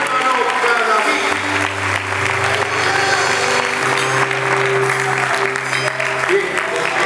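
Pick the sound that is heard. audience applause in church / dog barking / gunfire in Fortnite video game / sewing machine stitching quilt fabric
audience applause in church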